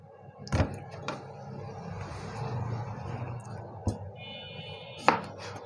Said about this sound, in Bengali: তো প্রথমে আমি কেটে নিচ্ছি। পাকা আম নিতে হবে, আমি এখানে পাকা আম নিয়েছি।